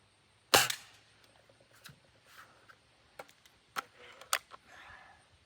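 A Beeman 1022 .22 caliber air rifle fires one sharp, loud shot, followed by faint clicks and small handling knocks, with no talking.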